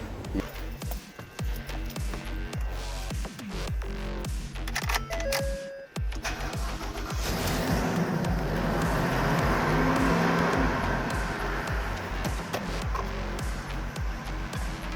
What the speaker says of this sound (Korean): 아, 차 시동 소리 좀 한번 들어볼게요.